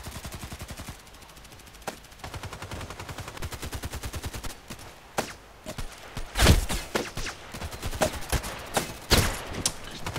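Rapid bursts of automatic gunfire and single shots in the online shooter Contract Wars on the Old Sawmill 2 map, a steady rattling stream early on giving way to louder, sharper cracks and a close heavy blast near the end.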